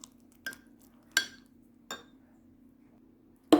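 A spoon clinks against a bowl while homemade Thousand Island dressing with relish is mixed, giving four sharp, separate taps spaced about a second apart over a steady low hum.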